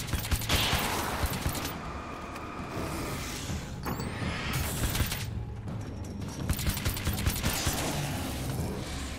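Gunfire in Alan Wake's American Nightmare, bursts of shots spread across several seconds amid rumbling mechanical game noise, moderately loud and irregular in rhythm, with no voices.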